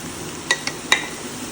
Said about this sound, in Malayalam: ഇനി ഇതെല്ലാം കൂടെ നന്നായിട്ടൊന്ന് ഇളക്കിയെടുക്കുക